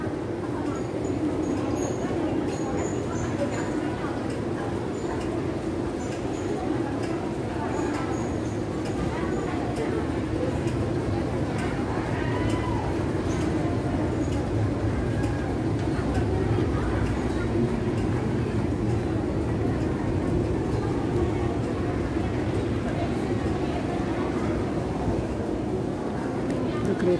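A train arriving at a station rumbles steadily, with a low hum and some clattering and squealing, while people talk in the background.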